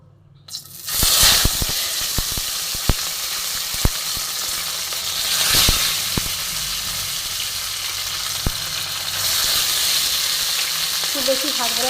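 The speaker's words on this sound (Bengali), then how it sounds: "আমি মাছ ভাজার জন্য সরিষার তেল গরম করে নিয়েছি। এবার আমি একে একে মাছগুলি ভেজে নেব।" Tilapia fish pieces fry one by one in hot mustard oil in a pan, a steady loud sizzle starting abruptly and holding throughout, with occasional clinks and spatters, no talk.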